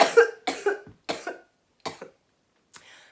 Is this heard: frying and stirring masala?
no